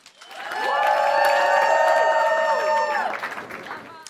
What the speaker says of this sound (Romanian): Niște aplauze, Sandu Buzil începe primul!